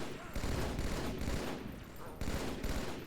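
Sustained automatic weapon fire rattles through a Halo 2 battle near a hotel and crash site, dense bursts of shots layered in loud, continuous volleys with brief dips between them.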